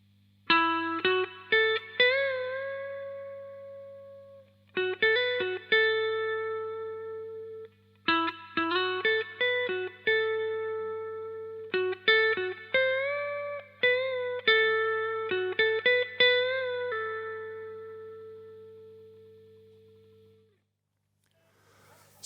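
An electric guitar plays a slow blues solo phrase, with clean bent and sustained notes in short bursts separated by pauses, alone over a low steady hum.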